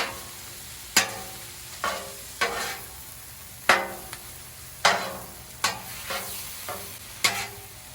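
Sausage frying on a 36-inch Blackstone griddle, a constant sizzle broken by sharp scraping spatula strokes every second or so, close and fairly loud with no talk.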